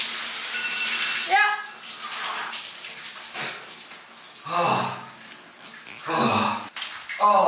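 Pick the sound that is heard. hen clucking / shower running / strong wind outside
shower running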